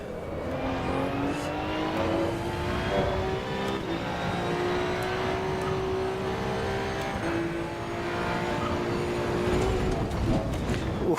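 Race car engine in Assetto Corsa sim racing at Bathurst, heard from inside the car: a steady, loud droning note that climbs and dips with throttle and gear changes throughout, with no talking over it.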